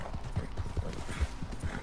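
Hooves of a zebra or horse clip-clopping in a PlayStation game, a steady rapid run of soft low thuds repeating at an even trot, mid-distance, with no talk over them.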